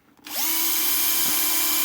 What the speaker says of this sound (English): Use a 3 mil drill.